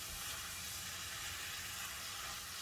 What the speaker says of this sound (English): Cover the pan and simmer for 2 more minutes.